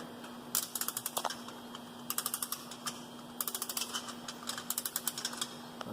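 A ratcheting wrench tightening truck wheel lug nuts, quick bursts of rapid clicking repeated in several clusters, close and fairly faint over a steady background hum.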